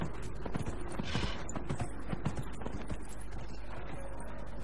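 Horse hooves clip-clop steadily in Dragon Age Inquisition as a mount trots along, a repeated close rhythm of hoof strikes with faint mechanical clatter and game ambience beneath, no talking.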